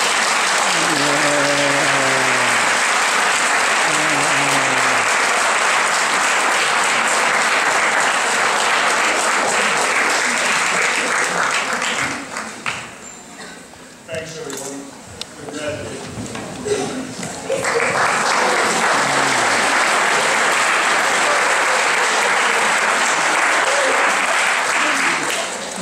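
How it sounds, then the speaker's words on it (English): Commencement graduates turn and applaud their parents, a loud sustained wave of crowd clapping that dips briefly as a voice speaks, then swells again; a few chuckles are mixed in. "face your parents, try to catch their eyes, and give them an applause"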